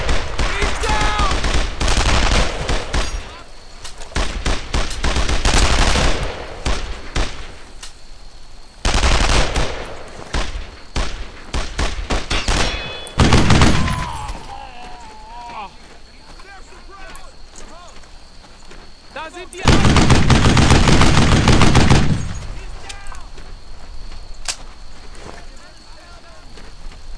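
Bursts of machine-gun fire in the World War II shooter Brothers in Arms: Earned in Blood, loud rapid volleys recurring through the scene with running and shouted squad voices in between.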